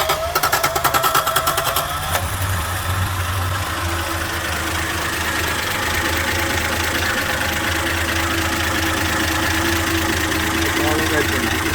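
A 1974 Dodge Dart with a Slant 6 engine cranks with rapid, rhythmic starter pulses, catches after about two seconds and settles into a steady, low idle with a faint mechanical clatter, close to the recorder.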